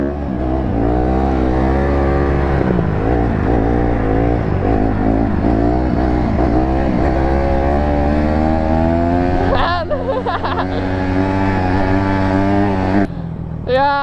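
Dirt bike engine revving hard and shifting pitch while being ridden close by, a loud continuous whine that rises and falls, briefly drops off near the end, with voices talking over it.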